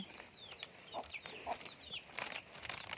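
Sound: chickens clucking

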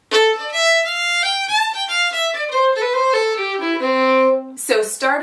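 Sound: fiddle playing section of a tune

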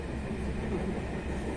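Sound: train running on rails

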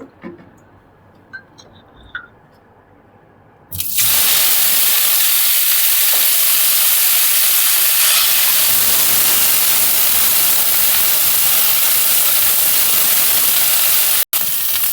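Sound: cauliflower frying in oil

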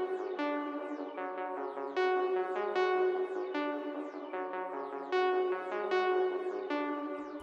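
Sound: synth arpeggio from ARP Dreams 2 preset in FL Studio

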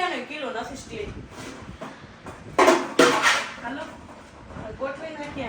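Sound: utensils being arranged on a shelf

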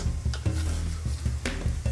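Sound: falafel frying in hot oil

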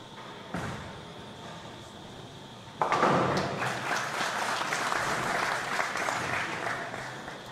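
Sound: crowd cheering and applauding at PBA50 bowling finals

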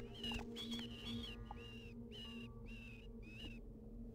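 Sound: rat squeaking in the video game Vampire: The Masquerade – Bloodlines

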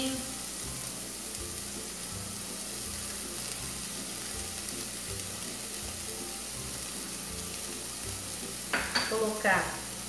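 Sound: tomato paste sizzling in frying pan with chicken

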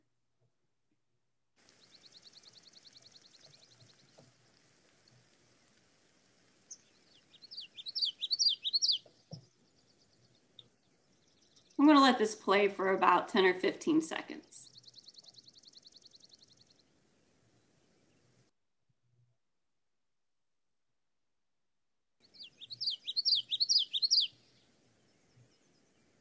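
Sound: different birds calling in a wetland

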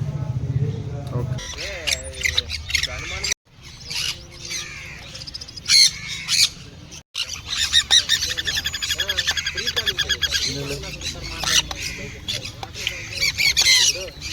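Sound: exotic birds squawking

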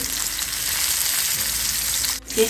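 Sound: fish frying in a pan

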